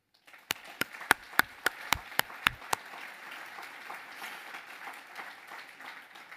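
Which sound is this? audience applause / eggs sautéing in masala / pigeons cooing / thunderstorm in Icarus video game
audience applause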